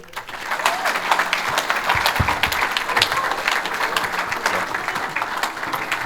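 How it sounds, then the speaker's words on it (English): Applause from a church congregation after a sermon on addiction, a steady wash of many hands clapping that swells quickly and holds evenly throughout. "So does everyone want to give them a round of applause?"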